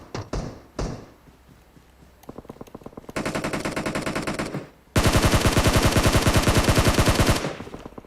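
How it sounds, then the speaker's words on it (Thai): Video game gunfire in PUBG Mobile: a few single shots, then a sustained automatic burst and a second, louder rapid-fire stream, close and dense, before tailing off. "บอดยิงครับ"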